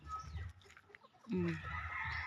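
Chickens on a small organic farm clucking and calling near the microphone, a few short clucks followed by a louder, longer squawk, with faint background noise.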